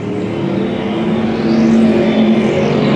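Street stock race cars roar around the oval at Coastal Plains Raceway, a steady, loud engine drone that swells slightly as the pack passes, with no voices.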